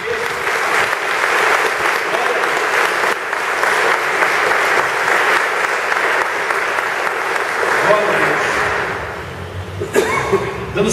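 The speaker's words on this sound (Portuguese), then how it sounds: "E eu gostaria que você aplaudisse a presença de Jesus na igreja." A church congregation at a seminar applauds loudly and continuously for several seconds, the clapping thinning out toward the end with a few thumps and scattered voices.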